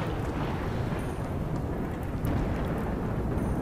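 A thunderstorm in the colony-building video game RimWorld produces a steady, dense roar of rain with low rumbling thunder throughout, and no voices.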